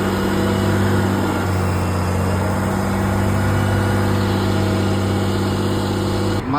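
Heavy vehicle engine idling at a container depot, a steady loud drone with strong low harmonic hum and constant vibration, unchanging until a brief drop at the very end.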